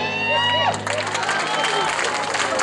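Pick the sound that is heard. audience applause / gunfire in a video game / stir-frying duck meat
audience applause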